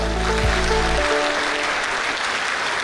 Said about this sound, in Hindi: तो आपकी इन्हीं तालियों के साथ मैं मंच पे बुलाने जा रहा हूं बॉक्स के एमडी दीपक बिष्ट जी